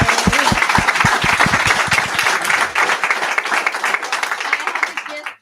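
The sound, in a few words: audience round of applause for speakers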